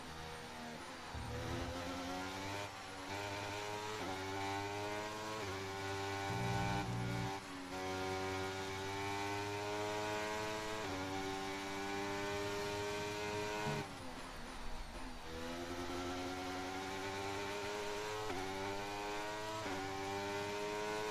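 An F1 car's engine screams in the F1 23 game on a practice lap at Barcelona, its pitch climbing through gears with brief dips at upshifts and braking, loud and steady for the whole stretch.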